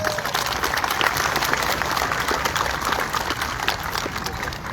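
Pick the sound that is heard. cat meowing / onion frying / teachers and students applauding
teachers and students applauding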